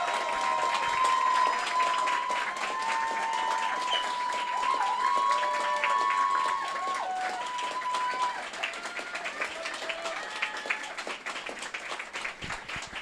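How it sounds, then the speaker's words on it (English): Sustained applause and cheering from spectators at an under-15 girls football county cup final, steady clapping for over ten seconds with whistles and shouts, gradually thinning toward the end. "supporters here were clapping, and that's a great cheer, isn't it?"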